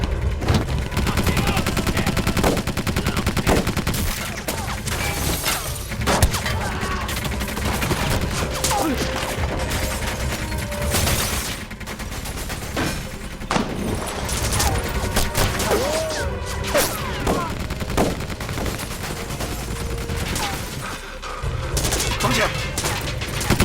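Loud, sustained bursts of gunfire fired at a ship, with rapid volleys and sharp cracks, dense and continuous throughout, with occasional crashes mixed in.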